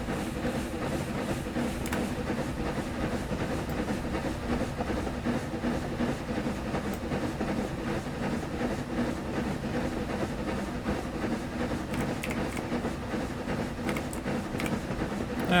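SDJR 7F steam locomotive climbing an incline in Train Sim Classic, losing steam; a dense, continuous rumble and hiss of the engine working hard, steady and moderately loud throughout with no voices.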